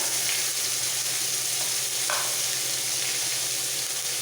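Ginger paste hisses in hot oil over fried tempering for a lote fish and vegetable curry, a continuous close sizzle with light stirring and a brief clink partway through.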